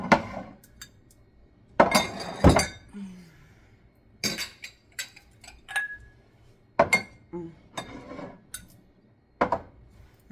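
Glass jars and glassware clink and knock together while being put away in a home coffee corner, several sharp separate clinks in irregular bursts, close and fairly loud, with quiet gaps between.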